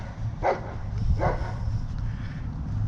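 A shepherd and Malamute mix dog gives two short barks about a second apart, moderately distant, over steady low background rumble with no talking.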